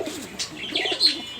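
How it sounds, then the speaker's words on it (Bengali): Satin pigeons, a pair of domestic fancy pigeons kept for sale, give soft low repeated coos with a few brief chirps, close by and fairly quiet, with no talk. "এখানে এক জোড়া শাটিং কবুতর আছে"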